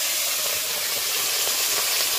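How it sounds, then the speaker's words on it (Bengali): Two heads of grass carp fry in hot oil in a village kitchen, giving off a loud, steady, bright sizzle and hiss that runs unbroken and close up, with no talking over it. "মাছের মাথা দুটো ভেজে নেবো,"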